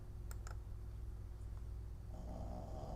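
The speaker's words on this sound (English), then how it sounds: "Quit your damn snoring." A dog snoring nearby indoors: a low, continuous rumbling snore with steady breathing texture, a few sharp clicks early on and a rougher snorting passage near the end.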